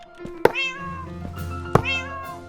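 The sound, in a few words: cat meowing in the video game Minecraft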